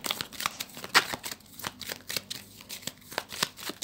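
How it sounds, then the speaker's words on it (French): Tarot cards are shuffled close up in a steady stream of crisp riffling and slapping, continuous papery flutters with no speech. "je vais faire une coupe avec le tarot pour les poissons"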